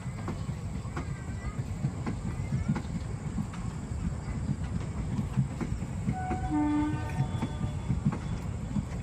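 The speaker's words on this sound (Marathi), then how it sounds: "दिसली कशी आहे ट्रेन बघ." A passing train rumbles steadily close by, its horn sounding in a clear held tone toward the end, with faint voices underneath.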